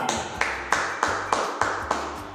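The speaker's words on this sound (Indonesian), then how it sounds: "Beri tepuk tangan untuk kita semua" A class of fifth-grade children and their teacher clap together in a steady rhythm, about seven sharp, evenly spaced claps over the room's background noise.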